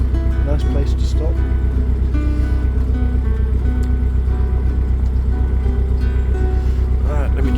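Narrowboat engine running steadily on the River Thames, a loud, close, continuous low throbbing chug with faint water wash, while someone talks over it.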